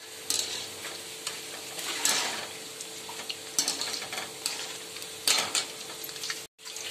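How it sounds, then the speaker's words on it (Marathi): Muthiya dumplings deep-fry in oil over a medium gas flame for Gujarati undhiyu, sizzling steadily up close. Scraping stirs and light utensil clinks come and go, with a brief silence near the end. "आता याला आपण तळून घेऊया। याला आपल्याला मीडियम गॅसवरच तळायचे आहेत मुठ्याला।"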